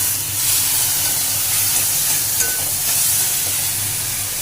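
Saag greens seasoned with turmeric and salt are stirred in a hot frying pan, with steady loud sizzling and hissing steam and soft scraping of the spoon, without talk.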